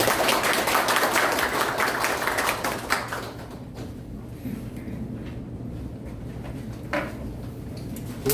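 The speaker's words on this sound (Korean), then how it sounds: "뜨거운 박수로" An audience at a lecture applauds warmly, a dense burst of clapping that thins out and fades into scattered claps and room noise.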